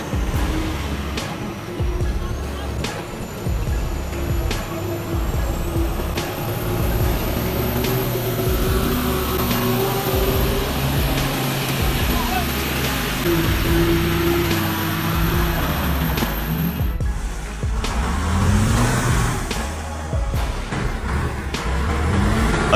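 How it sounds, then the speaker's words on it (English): Tata 713 4x4 truck labouring on a muddy road, a continuous engine drone with shifting low rumble and whining tones, moderately close, the pitch changing as it strains, ending in a rougher surge. "The Tata 713. 4x4 truck struggled on the muddy road."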